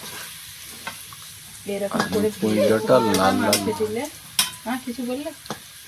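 Potatoes frying and being stirred in a pan during home cooking of a duck meat curry, with sizzling and spoon scrapes against the pan, while people talk closely over it.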